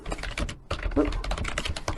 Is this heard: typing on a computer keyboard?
yes